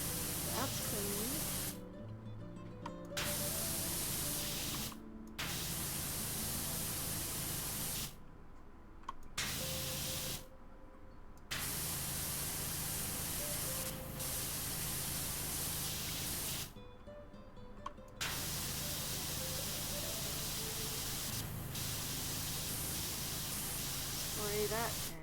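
A pressure washer sprays steadily in PowerWash Simulator, a constant loud hiss that cuts out in several short gaps and then resumes.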